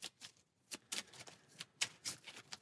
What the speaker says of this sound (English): So we'll give his deck 1 final shuffle.